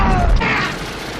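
Rapid gunfire and grenade blasts as a soldier fights guards inside a compound in an action movie: a loud, dense burst of booms and shots up front that fades into a rumbling tail.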